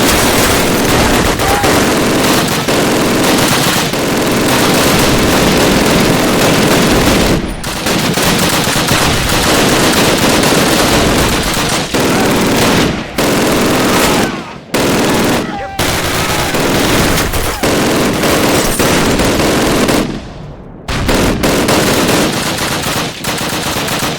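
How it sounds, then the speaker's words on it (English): An MG42 machine gun fires in a Call of Duty battle, loud, close bursts of rapid automatic fire that go on almost continuously, broken by a few brief pauses, with other gunfire and battle noise mixed in. "Grab that MG42 and use it!"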